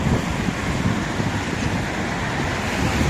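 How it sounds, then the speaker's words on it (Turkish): Cars passing on a busy road beside an Istanbul fishing spot at Unkapanı, a constant loud rumbling traffic wash with low engine and tire noise and no gaps. "Yalnız biraz çok ses geliyor değil mi? Araba sesleri çok böyle."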